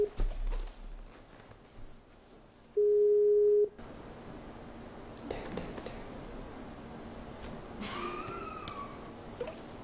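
A telephone call being placed during a live console release celebration stream: a steady, loud ringback or dial tone holds for about a second, surrounded by quieter low-level clicks and background room noise, with no talking.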